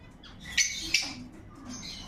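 Pet rosella parrots in a home aviary give two sharp, high squawking calls close by, with quieter chirps and faint rustling around them and no talking.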